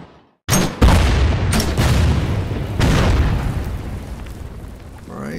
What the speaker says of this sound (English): Can do a little bombarding